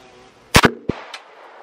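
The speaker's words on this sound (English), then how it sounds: "I'm going to be shooting it out of a CMMG conversion." A 5.7 round fired from a CMMG conversion gives one sharp, close gunshot with a quick double crack and a brief ringing echo, standing alone in a quiet setting.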